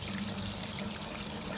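Water pumped through a homebrew beer setup flows and trickles steadily, a continuous liquid wash with a low pump hum underneath, close and fairly quiet, with no talk.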